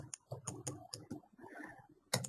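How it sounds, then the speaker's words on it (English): Quick clicks of typing on a computer keyboard, a short burst of several keystrokes followed by a brief pause and then another tap, close and fairly quiet with no talking. "Let's type it in again."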